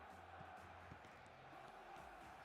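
A stadium crowd in the eFootball video game produces a steady, distant roar of cheering and chanting, a continuous dense wash with no single voice standing out.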